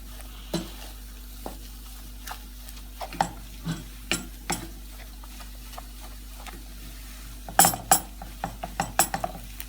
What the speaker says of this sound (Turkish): bir tatlı kaşığı pul biberi, bir çay kaşığı kimyon ilave edip hepsini bir tekrardan karıştıralım